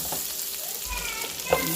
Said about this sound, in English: We're gonna add some nice pieces of butter.